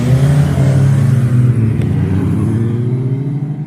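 A 2019 Suzuki Katana motorcycle with an inline four-cylinder engine runs close and loud, a steady low rumble with a slight pitch drop as the revs ease off.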